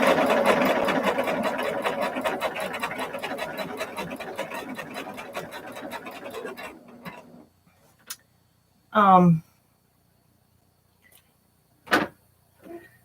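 Sewing machine stitching a quilt along stitch and flip tape, running close with a fast, even stitching rhythm that slows and stops, followed by a few short clicks and handling noises.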